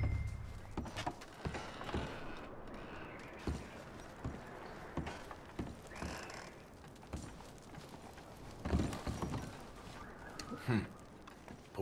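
Horse hooves clop irregularly at a moderate distance amid shuffling and faint background clatter in Red Dead Redemption 2, with no talking.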